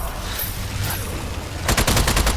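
In Strange Brigade the submachine gun starts with scattered shots over noisy combat, then breaks into a loud, fast string of rounds near the end.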